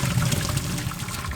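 Water from boiled potatoes pouring out of a pot into a sink, a steady loud rushing gush lasting just over a second, close and alone.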